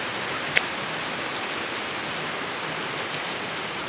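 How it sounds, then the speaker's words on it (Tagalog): Steady rain falls continuously, an even hiss of drops with one brief click early on. "Ayan, umulan na naman ulit,"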